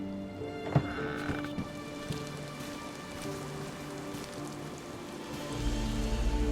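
Rain falls steadily on surfaces in Deer Isle in the game Blood Ties, a dense even patter that grows heavier toward the end, with no one speaking.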